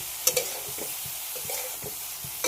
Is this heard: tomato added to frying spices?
yes